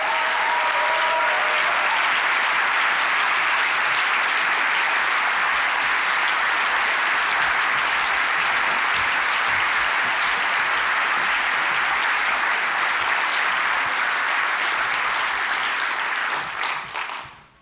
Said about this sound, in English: you give them a simultaneous round of applause